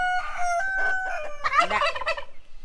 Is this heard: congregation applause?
no